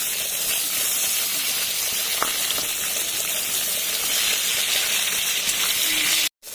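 Onion and tomato hit hot oil that has been tempered with black cumin, giving a loud, steady sizzle and hiss that continues without break until a brief cutout near the end.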